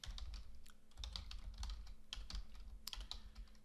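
Steady, quiet typing on a computer keyboard, with rapid clicking keystrokes continuing throughout and no voices.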